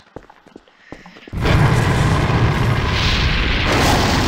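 Nuke explosion in Garry's Mod, a few quiet clicks and taps and then a sudden massive boom that swells into a loud, sustained roaring rumble.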